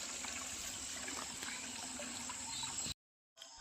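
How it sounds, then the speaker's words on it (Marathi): Dishes being washed with water outdoors near open running water on a farm, a steady close trickling and splashing wash that stops abruptly and then briefly resumes. "चला आता भांडे घासून घेते"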